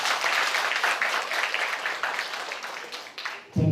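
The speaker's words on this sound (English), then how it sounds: "let's start with a round of applause to set the energy and excitement in the room." Lecture audience claps in a sustained round of applause, fairly close and lively, tapering off before a sudden louder thump at the end.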